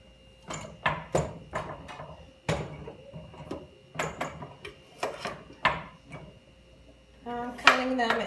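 A knife chops food into pieces on a board in a home kitchen, about a dozen sharp irregular knocks spread across several seconds, close and clear, ending with a brief clatter.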